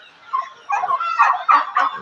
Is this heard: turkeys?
yes